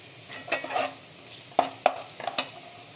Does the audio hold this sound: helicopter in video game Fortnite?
no